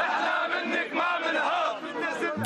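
A heated crowd of Lebanese people shouts in unison. The chant is loud and close and rises and falls in rhythm without any pause.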